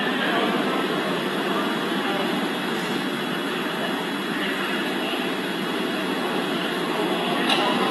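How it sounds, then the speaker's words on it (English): Falcon 9 first-stage Merlin engines, throttled down during a SpaceX Dragon launch, make a steady, dense broadband roar that holds evenly and loud throughout, distant and continuous with no voices. "We heard we're throttling down the Merlin engines on the first stage."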